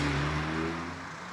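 Race car on Yokohama racing tyres pulling away on a damp, drying circuit for a timed lap, its engine note droning steadily at close range and easing slightly toward the end, with no voices.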